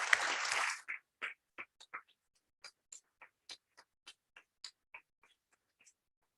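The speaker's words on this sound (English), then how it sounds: "Can we give this group a round of applause, please?" An audience at a Southwest Tech graduation ceremony applauds faculty and staff: a short burst of dense clapping that quickly thins into a dozen scattered, separate claps trailing off into quiet.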